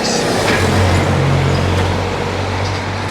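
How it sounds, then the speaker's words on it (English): Ropey old buses rumble past in Cancun street traffic, a loud, close, low engine drone that swells and eases with general road noise around it. "and there's some ropey old buses"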